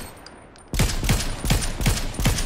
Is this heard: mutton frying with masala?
no